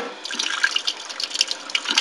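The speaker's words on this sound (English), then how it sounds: "So if I take this pane of glass, I can bend this water by attracting it to the surface" Water runs steadily onto a pane of glass, giving a continuous close splashing and trickling with small irregular spatters throughout.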